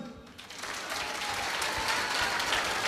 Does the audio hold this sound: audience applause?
yes